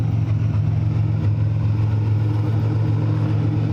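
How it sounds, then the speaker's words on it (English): A turbocharged car engine fitted with a 3-inch downpipe, running 20 psi of boost on an E85 conversion, idles with a steady, loud, low droning rumble that holds unbroken throughout. "3-inch downpipe running 20 pounds of boost"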